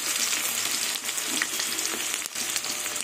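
Onions dropped into hot oil tempered with dried red chillies and crushed nigella seeds, giving a loud, dense, continuous sizzle and crackle close up, with a few stirring scrapes.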